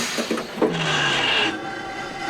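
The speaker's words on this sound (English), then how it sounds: "Ajay, stop the train!" A cartoon train on a Postman Pat-style railway brakes hard, a loud close screech of metal with a few knocks at the start, holding steady for about two seconds.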